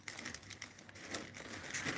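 Plastic bag crinkling and rustling while a flex kite is being made, a steady close crackle with irregular sharper crinkles throughout.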